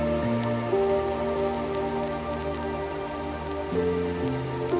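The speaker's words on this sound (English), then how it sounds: "It's the hum of snow making machines, fan guns specifically." Snowmaking fan guns at a ski area run at full power a little after 1 a.m., a constant dense roar and hiss with a steady low mechanical hum underneath.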